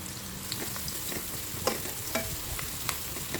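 Onion and garlic sautéing in used frying oil left from cooking milkfish, a steady close sizzle with occasional sharp pops and utensil clicks as the pan is stirred, no talk.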